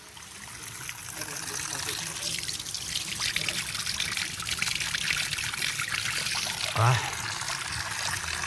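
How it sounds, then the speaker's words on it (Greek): Running water trickles and splashes steadily in Veria, Greece, at a gathering of a local Vlach association, forming a continuous close wash beneath a man's speech. "ωραίο το νερό της Βέρειας."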